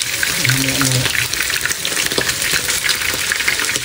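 Hot oil sizzles and spatters steadily as calamares fry in a pan. The loud, continuous crackle runs throughout, with brief voices speaking over it.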